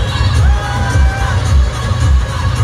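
A dense crowd cheers and shouts continuously at an orchestra performance, loud and close, with whoops and children's shouts rising over a steady roar.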